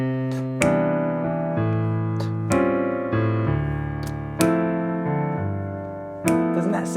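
A piano plays a left-hand rootless-voicing chord accompaniment: a steady series of rich sustained chords, each struck clearly and left to ring before the next change, with no voices.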